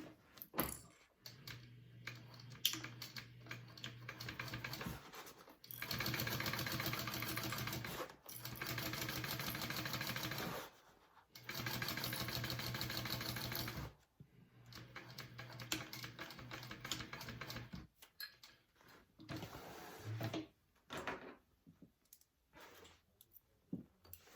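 A sewing machine runs a seam at a half-inch allowance in several loud, steady bursts of stitching, separated by short pauses and quiet handling noises.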